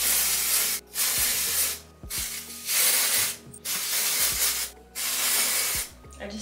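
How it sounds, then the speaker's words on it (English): A makeup spray bottle hisses out five short, close bursts, each about a second long, with brief pauses between them and no talking. "I just sprayed this like in my eyeball."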